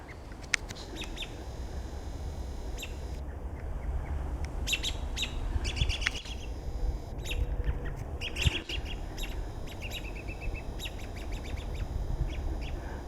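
An American robin calls in the woods with scattered sharp chirps and tweets, fairly near, over a steady rustling outdoor background with no talking.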